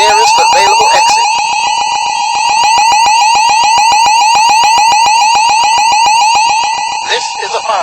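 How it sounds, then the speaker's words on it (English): A building fire alarm sounds loud and close, a rapid pulsing electronic tone repeating steadily, with a recorded voice announcement heard at the start and the end. "This is a fire alarm."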